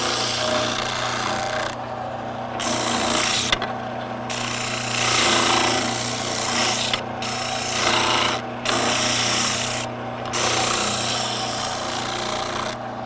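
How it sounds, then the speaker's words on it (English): A power sander grinds against a wooden cigar box guitar headstock in loud, steady bursts of abrasive rasping, broken by several short pauses as the wood is lifted away. "So you want to come to your sander and get more precise on the template."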